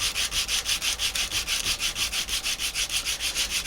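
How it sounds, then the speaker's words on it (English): Deer antler rubbed with coarse emery cloth, a close, rasping back-and-forth scrape repeating in a quick, steady rhythm of even strokes, with no talk. "on a coarse grit, I like to use an emery cloth for this because it goes very, very quickly"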